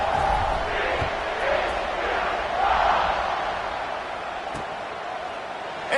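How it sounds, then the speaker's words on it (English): Football stadium crowd at a TCU versus Baylor game buzzing after a score, a broad steady roar of many voices with slight swells, heard alongside a commentator's voice. "this crowd is buzzing after that last score"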